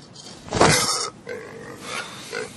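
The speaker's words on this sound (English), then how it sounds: "Just wrapping a pig in a blanket." A pig wrapped in a blanket lets out one loud, close squealing grunt, then softer snuffling grunts that trail off, with no talking.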